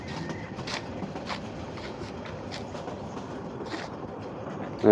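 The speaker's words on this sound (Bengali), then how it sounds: "অনেক দিন পর মন চাচ্ছে যে ট্রেনে একটু ভ্রমণ করি তাই হুট করে উঠে পড়লাম" A passenger train travels along the rails with a low, steady rumble and faint, regular clatter heard from onboard at moderate volume.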